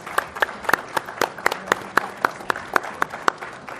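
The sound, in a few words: audience applause for panelists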